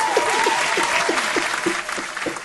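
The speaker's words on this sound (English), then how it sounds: "can you do an applause? Because I'm so happy." An applause sound effect, played on request in a casual podcast, runs for about two and a half seconds as steady, dense clapping at moderate level, with a faint whistle or cheer riding over it and no talk.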